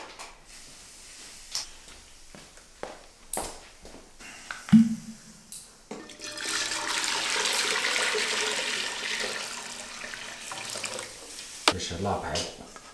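Water pours into a pot before cured pork ribs are boiled, a rushing stream that starts after a few scattered knocks and clanks, runs for several seconds, then fades into more handling sounds.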